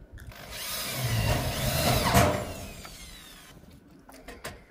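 A power drill whirs steadily into a light steel roof frame for a few seconds, building then tapering off, followed by light clanks and rattles nearby.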